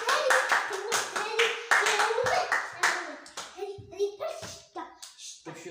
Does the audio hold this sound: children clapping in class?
yes